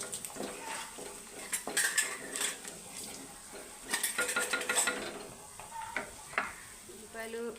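Onions, green chillies, curry leaves and ginger-garlic paste fry in a pan under a soft sizzle, broken by repeated metallic clinks and scrapes of a spoon stirring against the pan, heard close by.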